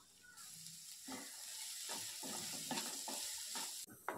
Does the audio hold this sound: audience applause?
no